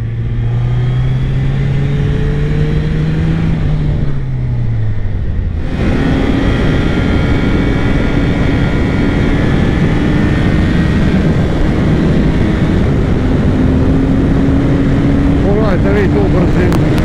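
A Suzuki Hayabusa Gen 3 GSX 1300 R motorcycle at high speed gives a loud engine drone with rising pitch, a brief gear shift, then heavy rushing wind noise while someone talks over it.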